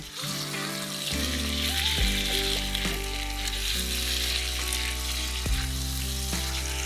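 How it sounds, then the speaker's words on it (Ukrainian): Loud, steady sizzling of onion and chicken frying in a pan, with occasional scraping and clinking as it is stirred, no voices. "Через одну хвилину додаємо курку"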